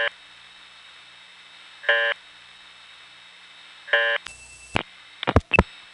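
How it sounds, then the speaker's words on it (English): A 1975 phone trunk reorder tone: short buzzy beeps repeating at a slow steady pace, followed by a few brief tone bursts and clicks, clear and alone. "there's a reorder tone that is supposed to be like that, 30 impulses per minute"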